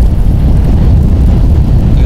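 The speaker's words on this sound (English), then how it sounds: "30 mile an hour winds" Heavy wind gusts of about 30 mph, up to 40, batter the microphone outdoors while fishing, in a loud, low rumbling roar that never lets up.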